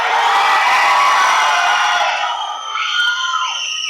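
A large crowd screams and cheers loudly for STR as he comes on stage, a sustained high-pitched roar that eases slightly toward the end.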